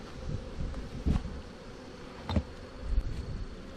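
Steady insect buzzing of honey bees fills the clip, a dense hum of many bees with a few brief louder swells as individuals pass close.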